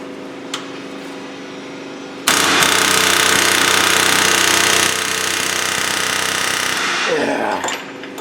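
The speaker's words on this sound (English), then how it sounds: "I like to hook that chisel right on there." Air chisel hammering on the steering knuckle of a Buick Enclave during wheel bearing work, a loud continuous rapid rattle that starts suddenly after a quieter lead-in and runs for several seconds before trailing off.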